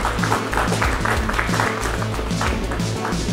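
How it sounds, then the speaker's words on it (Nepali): An audience claps in a music award ceremony hall, a steady wash of applause over low, tonal music or hum that keeps going throughout. "एकचोटि एकदमै जोरदार ताली अर्को आवाजले गुन्जना गराउने हललाई"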